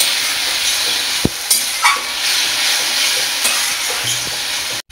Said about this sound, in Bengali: জল দিয়ে মশলাটা কষে নেব।